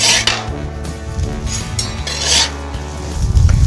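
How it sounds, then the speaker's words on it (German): Beef patties sizzling on a hot grill, a continuous hissing fry with scattered clinks and scraping of utensils, fairly close and steady throughout. "Der fängt an zu zischen."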